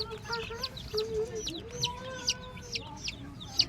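Newly hatched chicks give repeated high, short peeping calls, close and fairly quiet, over a low background murmur, with a few brief falling chirps scattered through.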